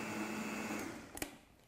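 A blender briefly and gently mixes probiotic capsule powder into raspberry lemonade, a low steady motor whir that stops with a couple of clicks near the end.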